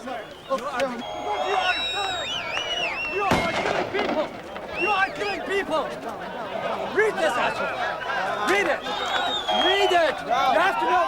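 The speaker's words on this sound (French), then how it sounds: "Grenade lacrymogène et première dispersion." A tear gas grenade is fired at a crowd of Palestinian protesters, making one sharp bang amid continuous loud shouting and crowd noise.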